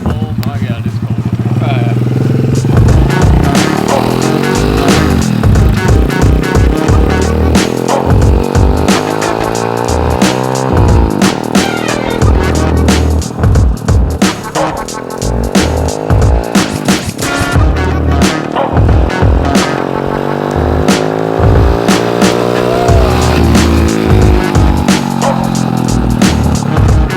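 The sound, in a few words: mini street quad engine riding down the street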